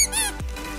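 A squeaky rubber pig dog toy gives a single short squeak, close and fairly loud, standing alone.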